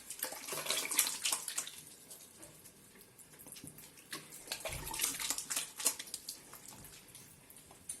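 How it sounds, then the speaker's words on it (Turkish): A tap runs while hands are washed for twenty seconds at home in the evening. The splashing water is faint and uneven, with soft surges and drips under a quiet background. "20 saniye elimizi yıkıyoruz"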